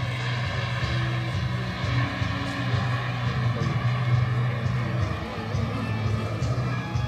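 Fuji T-1 jet trainer RC model flying in a landing approach, a steady, continuous engine whine and rumble at moderate distance throughout.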